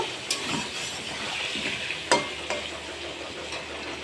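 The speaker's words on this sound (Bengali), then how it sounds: "এদিকে এই যে হলুদ দিয়ে দিয়েছি আর লবণ দিয়ে দিয়েছি, দিয়ে আলুটাকে আমি লাল করে ভেজে নেব" Potatoes frying in oil with turmeric and salt, an early step in a chicken biryani. A continuous close sizzle is broken by a few sharp stirring knocks, one especially loud about halfway through.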